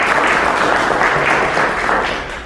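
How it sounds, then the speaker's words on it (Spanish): Loud, dense applause from a sizable audience, steady throughout and tapering slightly at the end. "que está a cargo de la doctora Erika Pani, para quien pido un aplauso"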